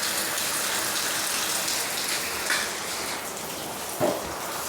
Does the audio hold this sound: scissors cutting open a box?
no